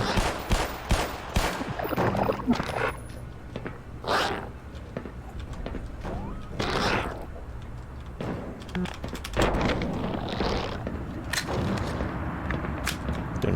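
Gunfire in the video game Black Mesa, several sharp shots scattered across the stretch, some in quick bursts, over game ambience with someone talking at times.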